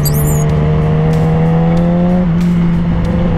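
A car engine fitted with a new exhaust, a steady loud droning tone that holds, then shifts and drops slightly partway through, close by with no talking.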